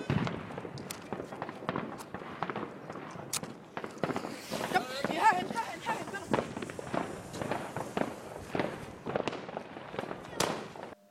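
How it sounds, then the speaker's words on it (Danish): A Grand Cru fireworks battery going off outdoors, firing a rapid string of sharp cracking bursts over about eleven seconds, loud and fairly close with crackling tails between shots. "Vi skal til at teste et Grand Cru batteri."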